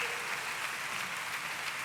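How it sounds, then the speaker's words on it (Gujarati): Steady wash of audience applause at a religious discourse during the Vadtal Mahotsav temple festival, dense and continuous, moderately distant, with no clear voice on top. "એકવાર તાળીઓના નાદથી અમને વધાવીએ."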